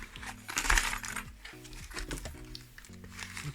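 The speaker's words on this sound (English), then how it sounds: "Look at this, lots and lots of coins all falling out." Many loose coins spilling out of a package, a rapid run of bright metallic clinks and jingles close by, with scattered rattles continuing as they settle.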